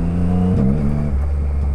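A triple-cylinder street motorcycle with an aftermarket exhaust revs hard and then settles into a deep, loud idle rumble, heard up close with no talking.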